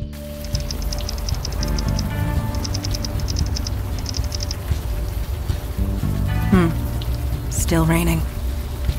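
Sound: rain in the video game Unavowed

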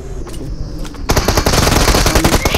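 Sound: gunfire in the video game PUBG Mobile

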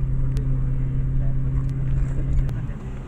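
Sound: Jeep driving off-road

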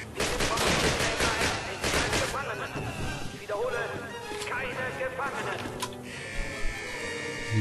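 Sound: gunfire in video game Call of Duty

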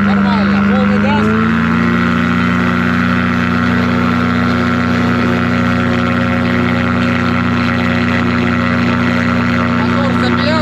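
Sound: motor glider engine running at full throttle

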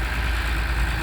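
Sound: backhoe excavator engine idling as it comes down

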